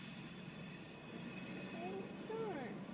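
A train rolls along the tracks with a steady low rumble that swells slightly, with faint wheel squeals rising near the end, heard at a distance with some talk.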